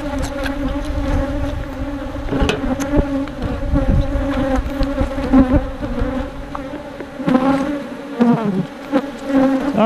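Bees buzz steadily around an open hive during beekeeping maintenance, a dense close swarm drone with individual insects whining past, a few sharp knocks and rustles breaking through.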